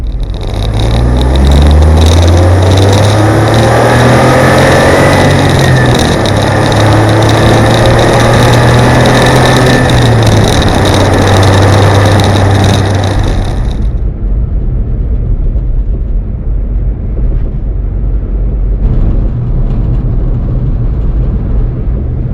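Turbocharged engine of a Smart ForTwo 450 Passion, rated at 61 horsepower, drones loudly while driving, rising and falling through the revs for about thirteen seconds before dropping to a much quieter low rumble, with no talking.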